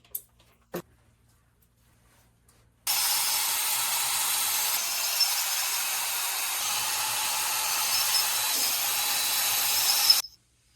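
Cylinder honing on a seized Mini JCW engine block: after two faint taps, a steady abrasive power-tool whir starts near three seconds and runs loud and continuous, close to the listener, until it cuts off just before the end.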